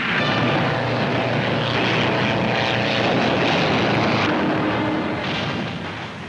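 P-40 fighter planes taking off along an improvised metal runway during World War II, a loud, continuous propeller-engine roar that fills the scene with a steady rumble and no talk.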